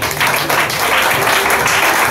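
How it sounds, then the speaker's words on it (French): Guests at a French wedding ceremony break into applause: a thick, continuous wash of many hands clapping at once, loud and even throughout with no pauses. "On applaudit pour les évoquer."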